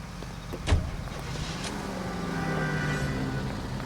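Car engine in the video game L.A. Noire, a low motor drone rising in pitch as the vehicle accelerates, with a short thump near the start; no talk.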